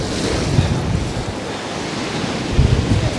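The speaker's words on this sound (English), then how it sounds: "That wind is really loud." Strong storm wind roars across Poole Harbour, a loud steady rush with buffeting gusts on the microphone and a surf-like wash underneath, no voices.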